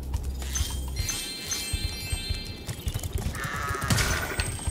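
Goat bleating in the Spyro the Dragon video game, a few short bleats standing out over steady game music and ambient rumble, fairly close and clear.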